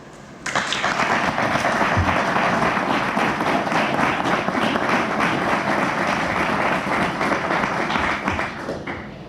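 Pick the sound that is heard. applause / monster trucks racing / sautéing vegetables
applause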